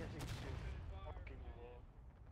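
A booming gunshot with a long rolling tail in the Civil War video game War of Rights, at the Dunker Church map, set against a dense, noisy battlefield background.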